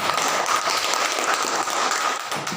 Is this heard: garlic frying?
no